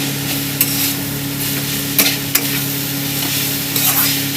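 A salted stuffing for stuffed capsicum fries in a pan while being stirred, a steady close sizzle broken by a few sharp scrapes and knocks of the spoon against the pan, no talk.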